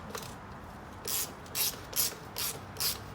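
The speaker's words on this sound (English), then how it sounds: "looks like this is a 17 millimeter bolt here" A ratchet loosens a 17 millimeter bolt on the rear wheel of a PW80. It gives five short, evenly spaced bursts of clicking, close and clear, with no talk.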